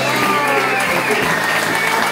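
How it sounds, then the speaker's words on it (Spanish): A concert crowd at a rock show claps loudly and continuously, a thick wall of applause with a voice and some musical tone mixed underneath. "Aplauso fuerte."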